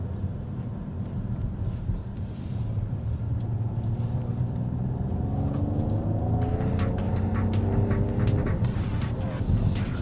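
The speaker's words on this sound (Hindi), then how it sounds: "गाड़ी ब्लिप भी करती है" A 2024 Mercedes-AMG GLE Coupe with a 9-speed torque-converter gearbox revs loudly and steadily, its engine tone climbing in pitch, then sharp crackling blips and pops break in over the last few seconds. No one speaks.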